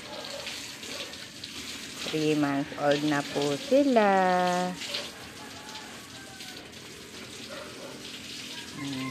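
A continuous hiss of water spraying as a shower over three-month-old pet ducks, with a voice talking briefly over the middle of the stream.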